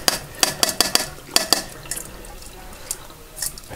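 Sushi rice being drained of its last rinse water in a kitchen, heard as a quick series of close clinks and splashes of wet rice and water against a strainer or bowl, then a faint trickling drip with no one talking.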